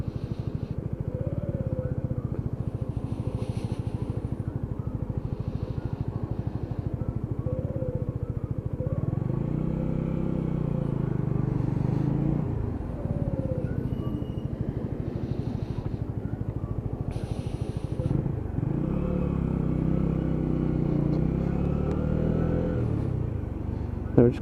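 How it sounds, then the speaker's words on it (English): Lexmoto ZSB motorcycle engine running steadily while the rider downshifts into first, with low rumbling drone and a few brief rises and dips as gears change, close and continuous throughout. "And just clicking down through the gearbox, down into first."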